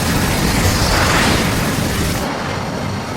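A broadband roar of missiles fired from an F-4 fighter jet in aerial combat, loud and sustained for about three seconds before the top end eases off.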